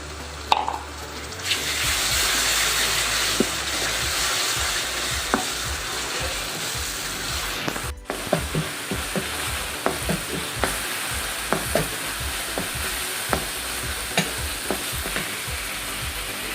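Onions fry in a pan for chicken kabab handi, giving a steady hissing sizzle after a brief rustle at the start, with a short break midway and scattered spoon taps and scrapes continuing to the end.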